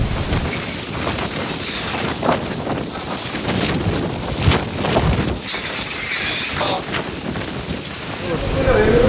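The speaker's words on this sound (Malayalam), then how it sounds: "കാറ്റ് കൂടിയിട്ടാ കാറ്റ് ഹെവിയായി" Strong, gusting wind during a storm in Hong Kong roars steadily across the whole clip as broadband rushing and buffeting on the microphone, with rain-like hiss and surges around the middle; a voice is faintly present.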